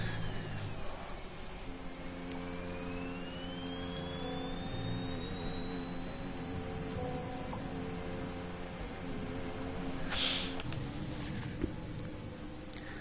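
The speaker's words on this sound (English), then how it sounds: "we have engine sounds for the Red Bull." A high-pitched Red Bull Formula 1 racing car engine in a video game whines steadily, its pitch climbing then holding, with a brief burst of noise near the end.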